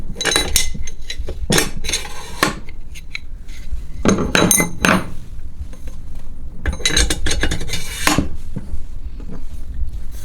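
Metal Mazda RX-7 rotary engine studs clink and scrape as they slide and seat together, in sharp bursts of clatter separated by short quiet pauses.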